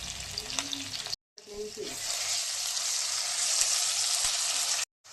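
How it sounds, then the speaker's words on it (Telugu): Onions, green chillies and ginger garlic paste frying in a pan for Telangana-style bagara rice, a loud, continuous hiss broken by brief cuts, with a few soft stirring knocks early on. "తర్వాత కొంచెం జింజర్ గార్లిక్ పేస్ట్ వేసుకొని వేయించుకోవాలి."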